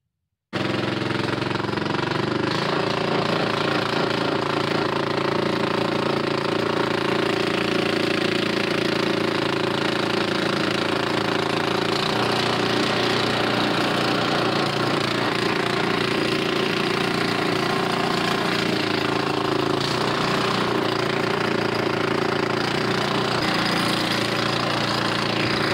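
A golf cart fitted with a Predator 212 engine runs rough, giving a loud, steady chugging drone that holds throughout with no talking.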